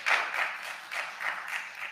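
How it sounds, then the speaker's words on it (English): Audience at a school board meeting clapping in a sustained, moderately distant burst of applause with uneven swells, no voices over it. "please, to hold your applause"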